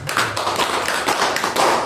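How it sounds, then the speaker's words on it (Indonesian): Audience applause at an Indonesian business seminar: a short burst of dense, steady clapping from a crowd, fairly close and loud, with no talking over it. "Tepuk tangan."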